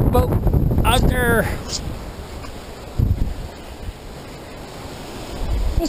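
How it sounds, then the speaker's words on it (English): Surf rushes and breaks against a shoreline at Sunset Point in a steady wash, with wind buffeting the microphone and a voice briefly at the start. "Just watch the waves crackle the shorelines."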